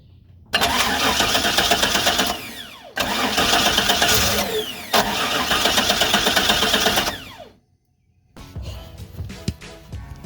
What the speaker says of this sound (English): Here is a bolt loose in the transmission.